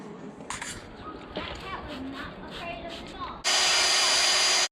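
Car headlamp lens being sanded with fine 3000-grit paper, a steady abrasive rasp under someone talking, then a much louder, continuous whirring tool at the end.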